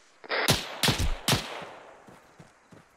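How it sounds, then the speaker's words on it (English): Close gunfire in ArmA 3: three sharp, loud shots about a third of a second apart, each with a long rolling echo, followed by a few fainter distant pops as the reverberation fades. "Shots south, close."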